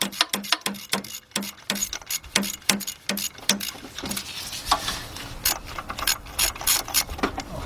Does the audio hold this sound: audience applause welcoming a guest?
no